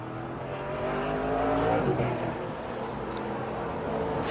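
An ARCA Menards race car runs through turn 3 toward the checkered flag at Tri-City Raceway, a steady, droning engine that swells slightly as it passes nearby and then holds at a constant level.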